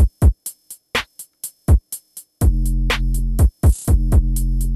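A funk snare pattern joined by heavily overdriven kick drums in a trap-style beat, sharp hits at first, then booming distorted kicks with a sustained low rumble, loud and close, no talking.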